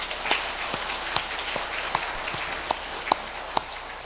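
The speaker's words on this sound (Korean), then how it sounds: "하나님께 영광의 박수를 드리겠습니다." A church congregation applauds in a steady wash of clapping, with a few sharper individual claps standing out at regular intervals.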